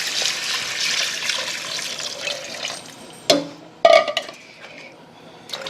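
Chicken stock pouring into a roux in a pan for roasted squash mac and cheese, a steady liquid rush that ends in a couple of sharp splashing clatters, close and alone.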